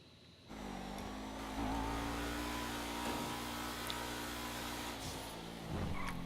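Race car engine revving during a race in Grand Theft Auto Online: a sustained, buzzy motor drone with pitch that climbs and shifts, steady and fairly close, with no voices.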